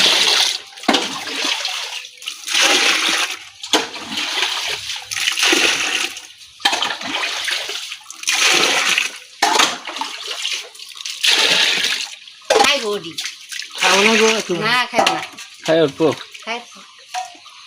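Water is poured and splashed in bursts while cattle feed is prepared, forming a series of gushing, sloshing surges separated by short pauses, with a voice speaking in between.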